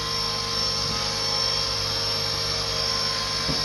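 A Blade Fusion 180 Smart RC helicopter hovers close by with a steady, high-pitched electric whine and rotor buzz that holds level throughout, with no talking.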